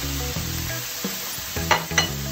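Green beans coated in marinade go onto a hot panini press grill with a short burst of sizzling and some scraping stirs, close and fairly loud, no voices.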